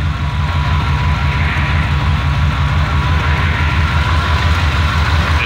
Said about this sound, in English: Still runs good though for an old Chevy.